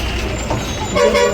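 A KSRTC bus pulls into Harohalli bus stand, its horn tooting in a sustained blare that swells toward the end over a rumbling engine and station bustle.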